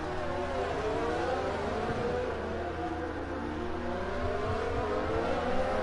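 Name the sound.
racing cars driving in a train, from a racing video game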